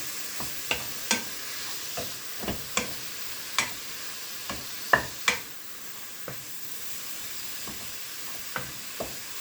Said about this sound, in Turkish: kıymanın hafif rengi dönene kadar bu şekilde karıştırmaya devam ediyorum